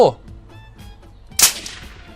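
A suppressed rifle shot in the survival video game Survive the Nights, with a single sharp, fairly loud crack and a short decaying tail, preceded by faint game tones and low background noise.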